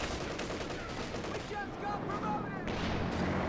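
Gunfire and explosions rage in a WWII strategy video game battle as a mine detonates under a Panzer IV: dense, continuous rattling and booms with someone narrating over them.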